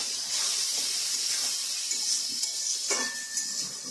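Chicken sizzles in a hot pan with coriander and cumin powder, a steady soft hiss of frying with a few light clinks of stirring and no talking.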